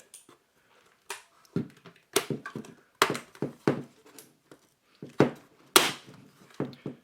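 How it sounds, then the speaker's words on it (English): Plastic wrist rest sliding onto a GranVela MechanicalEagle Z-77 mechanical gaming keyboard and snapping into place: a string of sharp, close clicks and knocks in irregular bursts, with no talking. "it snaps and locks nicely in place"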